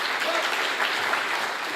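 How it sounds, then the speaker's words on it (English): Steady, dense applause from a conference audience at a developer awards livestream, a continuous wash of many hands clapping at even volume throughout. "so also want to give them a round of applause for that."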